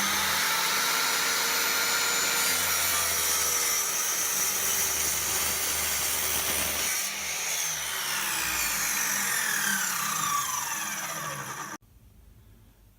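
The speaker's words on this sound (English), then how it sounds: "To cut the support leg to the right length, first I square up one end on the miter saw." A miter saw runs loud and steady as it cuts a wooden support leg for a workshop base unit, a dense whirring roar that carries on for several seconds before stopping abruptly.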